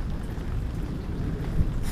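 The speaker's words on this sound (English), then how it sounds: "there's our big storm that was just walking on us" Rain falls steadily during a lightning storm around a sailboat at anchor, a dense, close hiss with a low rumbling undertone and a soft thump near the end.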